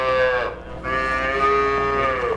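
Dairy cows on a farm with a 500-head herd low in two long, close, loud moos, the first brief and the second drawn out and sustained with a rich harmonic tone.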